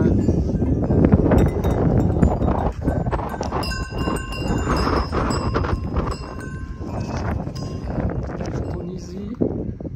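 Bells clanking on a mixed flock of sheep and young goats on a Greek island, hooves clattering nearby, with a person talking over the animals.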